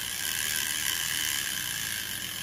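A used Taiwan-made T5000B fishing reel is cranked, giving a steady, even mechanical whir with fine ratcheting clicks throughout and no voices.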